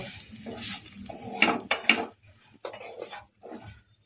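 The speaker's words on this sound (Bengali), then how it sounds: "এবার এর মধ্যে দিয়ে দেবো সুজিটা সবগুলোর সাথে একটু মিশিয়ে নেব" Semolina being mixed with vegetables in a pan with a metal spoon, giving irregular scraping and clinking strokes, close and intermittent with short quiet gaps between stirs.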